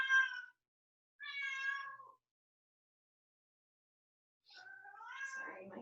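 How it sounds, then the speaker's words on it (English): A cat meows outdoors in three separate calls, the first two short and the last a longer drawn-out wail, each moderately loud with silence between them. "Sorry, my kitty walks outside."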